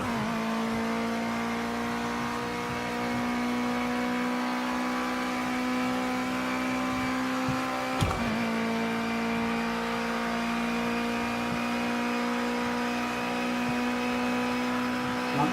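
Ginetta G40 Junior race car engine in Project Cars 2, held at a steady high-revving drone throughout, loud and close, with a brief jolt or gear change near the middle before the engine note carries on.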